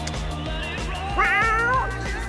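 Cats meowing in the video game Postal 3, a tonal wavering meow rising over a busy game soundtrack for about a second, fairly loud amid ongoing background music and effects.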